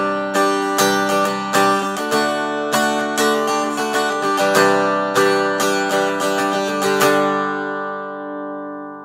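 A Fender Acoustasonic Telecaster guitar is played unplugged, sounding acoustically: a series of bright chord strums with ringing notes, building a strummed rhythm before the last chord is left to decay and fade alone.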